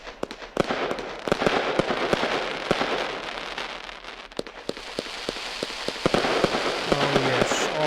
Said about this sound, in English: I don't know if it is actually existing fireworks.